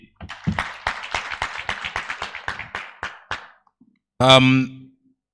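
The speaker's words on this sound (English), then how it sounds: "Let's clap for him once again" Scattered hand claps from an audience for the Deputy Governor at a Bank of Uganda stakeholders' engagement in Mbarara, a quick uneven run of distinct claps that thins out and stops, followed by a short burst of voice.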